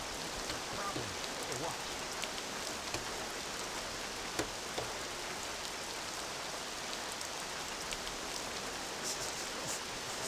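Steady rain falls in the video game Mafia, an even, dense hiss of drops spattering on surfaces with occasional sharper ticks, continuous and moderately loud throughout.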